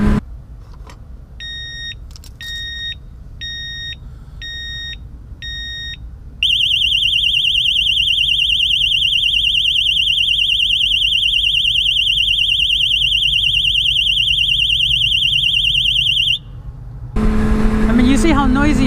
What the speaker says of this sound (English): The one that I have has a 120 decibel alarm in it that just even a little bit of vibration will set it off.